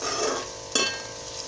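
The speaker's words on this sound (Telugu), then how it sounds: "ఉల్లిపాయలు కాస్త మగ్గుతూ ఉన్నాయి." Chopped onions sauté in a pan for a broad bean curry, a soft continuous sizzle with one sharp scrape of a spoon stirring midway, close and fairly quiet.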